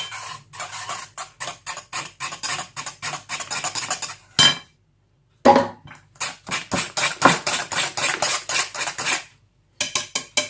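A spoon clatters against a bowl as biscuit dough is mixed with oil, loud and close, in quick rhythmic bursts broken by two short pauses, with no talking.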